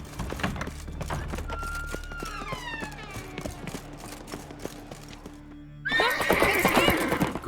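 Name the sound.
horse neighing in video game The Witcher 3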